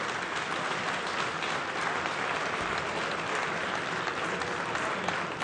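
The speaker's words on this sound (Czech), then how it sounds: "Dobrý večer a potlesk pro vás." A fight-night crowd in a hall gives a dense, steady round of applause, a continuous wash of many hands clapping at even loudness throughout.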